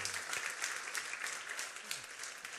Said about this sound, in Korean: 다시 한번 박수로 감사해 주시면